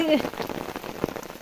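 Rain falling steadily on a surface outdoors, a dense patter of drops throughout with a few louder nearby splashes; a brief voice-like tone rises at the very start.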